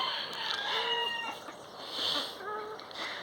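Chickens cluck and a rooster crows near a stable at a rural poultry yard during the morning release of the birds, with repeated crowing and clucking calls over steady background noise.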